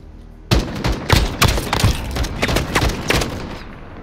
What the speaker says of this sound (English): Look at that shooting, Tex.